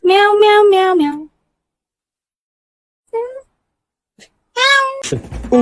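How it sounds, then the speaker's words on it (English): A pet cat meows loudly and close by: a long wavering meow, a short faint one and another long meow, separated by silence, with a brief clatter at the end. "Meow, meow, meow, meow."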